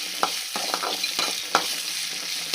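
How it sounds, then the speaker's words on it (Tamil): Whole small shallots sautéing in a pan for a tamarind curry with greens stalks, a bright steady sizzle punctuated by rhythmic spoon scrapes and knocks against the pan, close and clear, with no speech. "வெங்காயம் நல்லா வதங்கி சின்ன வெங்காயம் கட் பண்ணக்கூடாது."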